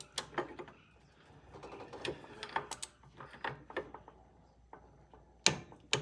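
A torque wrench set to 30 tightens a bolt during a T100 transmission reassembly, giving a string of sharp close clicks and ratcheting ticks in irregular bursts, with a louder snap near the end.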